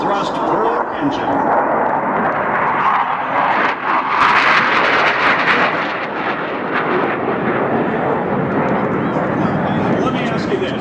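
A B-52 bomber roars past at an air race, a loud sustained jet rumble and roar swelling in the middle and holding steady with crowd noise mixed in.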